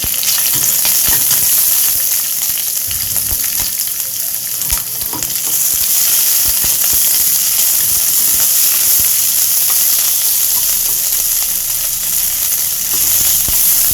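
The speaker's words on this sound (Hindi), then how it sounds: "शिमला मिर्च और प्याज ये ऐड करेंगे इसमें और इसको फ्राई करेंगे हल्का सा" Capsicum and onion frying in oil in a pan, heard as a loud, constant close-up sizzle that runs unbroken throughout, with a few faint stirring knocks underneath.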